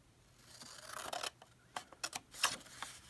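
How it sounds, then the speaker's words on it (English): Regular household scissors snip through paper for a card, giving several sharp, crisp cuts in quick bursts, close and clear against a quiet room. "I'm going to take just my regular old scissors here"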